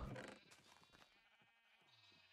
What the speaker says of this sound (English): let's shear some sheep real quick